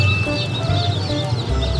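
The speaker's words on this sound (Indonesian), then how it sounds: "kita mau beli 10 ekor ayam warna-warni ya" Several colorful chickens, bought from a seller, cluck and chirp close by in a short, busy burst of overlapping calls.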